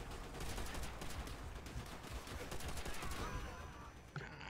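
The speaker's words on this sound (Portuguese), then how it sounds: "explodiu ali, explodiu aqui, explodiu tudo quanto é canto" Dense bursts of gunfire and blasts fill a Call of Duty: World at War battle, loud and continuous with rapid cracks throughout, and a voice talks briefly over the din.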